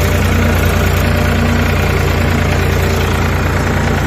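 A heavy tractor engine idles steadily close by, a constant low rumbling drone with a faint knocking vibration throughout.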